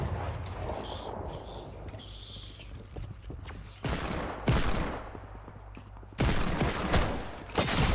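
Gunfire bursts in the video game Fortnite, loud rapid shots starting around the middle and again near the end, over a steady game background hum with a few creaking mechanical sounds.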